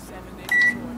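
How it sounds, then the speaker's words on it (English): A microwave oven heats a chocolate mug brownie with a steady low hum, and a short, sharp electronic beep rises above it midway through. No one speaks. "Next, you're going to put it in the microwave"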